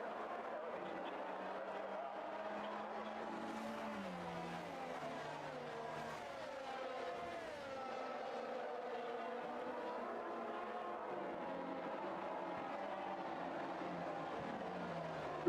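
Race cars in a racing video game circulate behind a safety car on the Austria circuit, a steady, fairly quiet hum of engines with slowly shifting pitch and no sharp revving.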